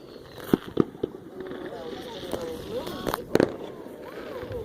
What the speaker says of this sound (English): I get to see the smoke from all the fireworks.